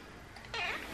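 A pet cat gives a single short meow close by, rising after a quiet stretch of faint room background.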